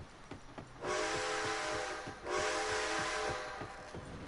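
A train in a PlayStation 4 video game sounds two long, loud whistle blasts over a rhythmic rolling clatter of wheels on track, with no talking.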